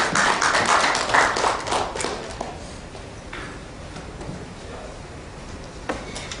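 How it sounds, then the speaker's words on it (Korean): Applause from an audience at a policy forum on arts and culture for disabled children rises in a dense burst of clapping, then thins out and fades within a couple of seconds. "감사 박수를 부탁드리고요"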